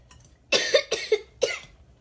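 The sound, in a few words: person coughing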